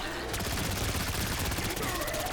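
A Pack-a-Punched MP-40 submachine gun fires nonstop from the hip in Black Ops 6 Zombies, a loud, dense stream of rapid shots running the whole time.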